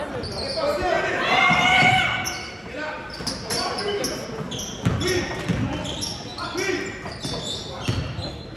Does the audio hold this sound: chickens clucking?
no